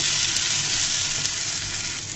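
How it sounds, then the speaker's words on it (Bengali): Tomato fries in hot oil in a pan, a dense, loud, unbroken sizzle heard up close throughout. "টমেটোটাকে আমি লাল লাল করে ভেজে নেব"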